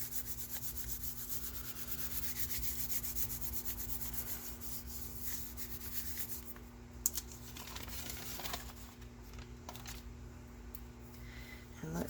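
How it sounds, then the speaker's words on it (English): Paper being rubbed down by hand onto a Gelli plate print, a steady soft close-up scrubbing and brushing that runs almost without pause, with a couple of small taps near the middle. "I'm going to get my little extra piece here so I can rub that down good."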